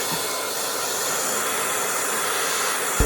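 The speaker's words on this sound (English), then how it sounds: "I'm just going in one more time with my freeze spray." Aerosol freeze spray misted lightly over a bald cap during makeup application, a steady continuous hiss lasting the whole stretch, close and even with no break.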